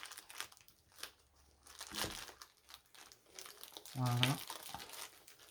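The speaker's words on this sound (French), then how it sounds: "Je vais déchirer, tant pis." Packaging being torn open during a monthly unboxing, with crinkling and rustling of wrapping and a louder tearing burst near the end, close up under a speaking voice.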